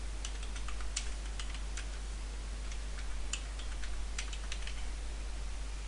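Irregular bursts of clicky computer keystrokes tapping out a name and password, quiet and close over a low steady mains hum.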